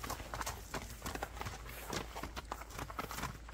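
A pacer horse offered for sale clip-clops along at a walk, its hooves striking in a quick, steady, close-up rhythm throughout without pause.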